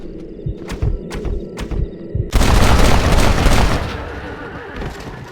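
Gunfire erupts in the video game Red Dead Redemption, a loud sustained burst of rapid shots and booms following a few earlier thuds, with brief voices before it and the barrage fading over a couple of seconds.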